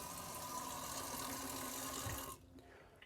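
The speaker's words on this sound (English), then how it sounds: "Now it'll probably take about 8 gallons of water to finish this rinse process." Water rinsing through a Truma AquaGo water heater during decalcification, a steady close rushing flow that cuts off abruptly near the end and leaves a faint hiss.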